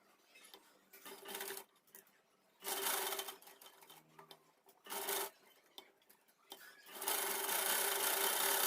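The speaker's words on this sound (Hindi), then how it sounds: "अब इसे हम स्टिच करते हुए देखेंगे।" A sewing machine stitches fabric for a child's pathani suit in short, close, rasping bursts, several separate runs with quiet pauses between them and a longer, louder run at the end.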